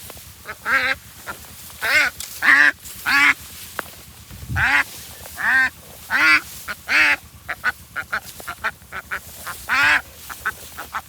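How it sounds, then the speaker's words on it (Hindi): Ducks quack repeatedly outdoors, loud and close, in rhythmic bursts of several calls with short pauses between, continuing steadily over a faint background. "बतख ये।"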